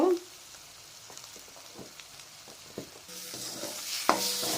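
Spice paste of sugar, coriander powder and cumin stir-fried in a pan for a village-style potol kofta curry: a soft steady sizzle with light scrapes and taps of a spoon, brightening into a louder hiss near the end.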